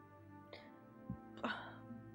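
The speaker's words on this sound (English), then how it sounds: "Why am I coughing?" A person coughs or clears the throat indoors, two or three short rough bursts spread over about two seconds, close and fairly quiet against a low background hum.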